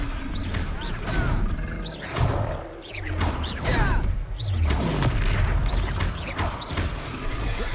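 In a Hogwarts Legacy battle, the Confringo blast spell goes off as deep booming impacts mixed with whooshes, crashes and rumbling game effects.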